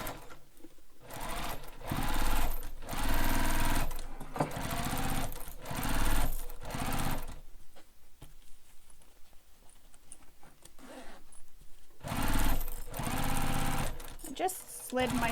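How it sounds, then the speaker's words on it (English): A sewing machine runs in several loud, close bursts as it stitches a seam on a Piper bag, pausing briefly between runs, with a voice talking in the gaps. "So we're going to sew this with the seam allowance given in the pattern."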